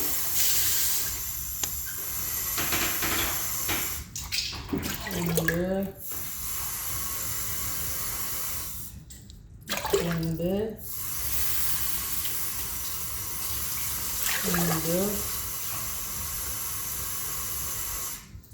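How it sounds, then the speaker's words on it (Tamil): Water pours steadily into a cooking pot for couscous with a constant splashing hiss for a long stretch, while a voice speaks briefly in Tamil a few times over it. "நாங்கள் இப்போ இதில் அஞ்சு கிளாஸ் தண்ணி விட போகிறோம்"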